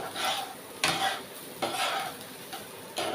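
Rice for basanti pulao being stirred in a pan over low flame, with repeated scraping sweeps of a spoon against the metal, steady and close, with no voices.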